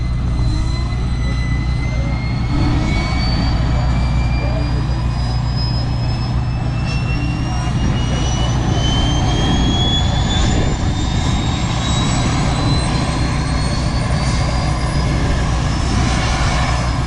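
Jet engine spinning up at a Patriot missile launch site, a loud steady roar with a whine climbing slowly in pitch over about seventeen seconds, with no voices.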